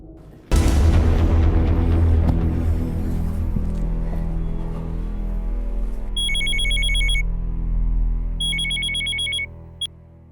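A telephone bell rings in repeated electronic bursts over a loud, low, sustained rumble of dramatic music in a Crime Patrol police crime drama scene, the rings coming in two clear clusters near the end.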